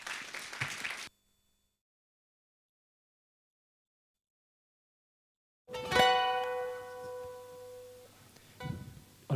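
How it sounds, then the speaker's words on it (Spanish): A church congregation at a Sunday service breaks into applause after a long stretch of silence, a burst of clapping that swells and then trails off alongside sustained tones. "vamos a dar fuertes aplausos al grupo Canto de Esperanza"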